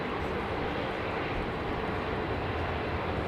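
Jet airliners taxiing at London Heathrow, among them a Royal Brunei Boeing 787 and a Royal Air Maroc 787, make a steady, broad engine rumble and roar that holds constant throughout, with no voices.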